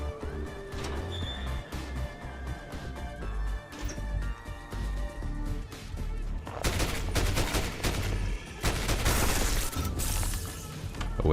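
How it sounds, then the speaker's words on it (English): Dense bursts of gunfire from shooting enemies in the video game Ground Zero: Apocalypse Crisis, loud rapid volleys with booms and crashes, intensifying into a heavy continuous fusillade in the second half. "why am I shooting these guys?"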